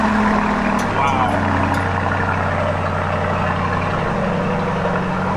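Lamborghini engine idling nearby, a steady low rumble with a smooth, throaty hum that holds without revving throughout.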